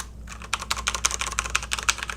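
Keys on a SteelSeries Apex M500 mechanical keyboard clack in a steady, fast run of close, crisp strokes with no talking.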